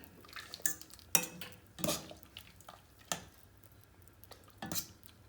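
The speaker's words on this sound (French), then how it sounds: "Et là par contre je vais couvrir, donc je mélange un petit peu." A spoon clinks and scrapes against a pan while stirring a chicken liver mixture with port, with a handful of sharp, separate knocks and quiet gaps between them.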